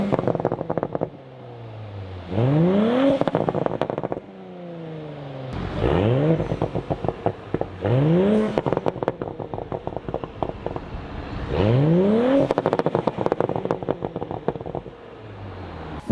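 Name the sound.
exhaust crackles from an Audi B9 EA839 V6 with VariSpec tune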